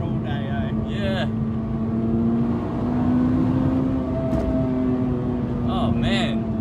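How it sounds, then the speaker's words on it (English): A Honda Integra DC5 Type R engine holds a steady droning note with slight rises in pitch, heard from inside the car with faint chirps and squeaks over it. "Oh, I love revving cars. It's more fun than turbos."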